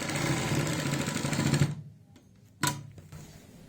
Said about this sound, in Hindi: यहाँ पे धीरे धीरे सिलाई लगाएंगे गोलाई पे